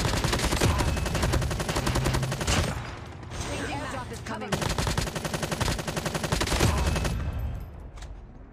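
Rapid bursts of automatic gunfire from a weapon in Call of Duty Mobile rattle on loud and close, with a brief lull midway before the shooting resumes, layered over game sounds and music.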